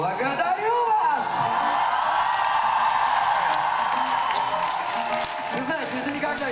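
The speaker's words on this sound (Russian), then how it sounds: "Вы знаете, это никогда из моды не выходит, ваш аплодисмент." A concert audience at a pop show in Crocus City Hall claps and cheers in a broad, sustained roar. Someone talks over the crowd and sings briefly, and his voice sits prominently on top of the noise.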